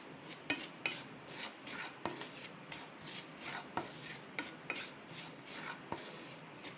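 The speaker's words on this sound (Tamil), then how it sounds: "ரவையை நம்ம நல்லா வறுத்து எடுத்துக்க போகிறோம்" Semolina (rava) being dry-roasted in a pan for payasam, a close, repeated rhythm of scraping and rubbing strokes from a spatula stirring the grains, each stroke ending in a soft knock, with no voices.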